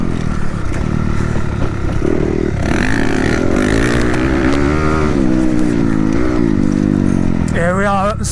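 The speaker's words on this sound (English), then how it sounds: "Try and do a wheelie now, quick." Enduro motorcycle at a practice event revving hard through a wheelie attempt, a loud continuous engine drone rising and falling in pitch with a sharp climbing rev near the end; talk is heard over the engine.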